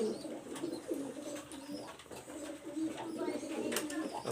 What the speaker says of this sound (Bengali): অল্প কিছু কবুতর যা শুধুমাত্র আমার ঘরে বেবি পেয়ারগুলোই দেখাবো